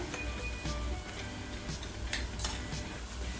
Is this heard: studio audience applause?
no